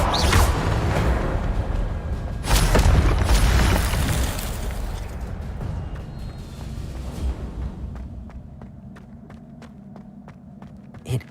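An Incendio fire spell cast in Hogwarts Legacy, a loud whooshing burst with a booming swell near the start that fades into a lower rumble and small clicks, with no talking.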